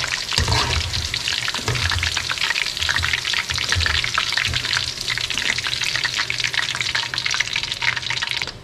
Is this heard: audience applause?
no